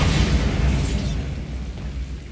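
A Bombarda explosion spell in Hogwarts Legacy, a loud, close burst with deep rumble that fades out over about two seconds.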